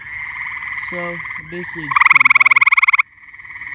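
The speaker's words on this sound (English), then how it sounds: "check on these gray tree frogs since they're all out." Gray tree frogs call from a pond in mid-spring, a loud close pulsed trill rising over a steady chorus of more distant frogs, while someone talks over it.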